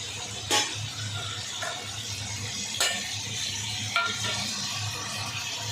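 Onions fry in a pan with a soft, steady sizzle, broken by a few light scrapes from stirring, with no talking.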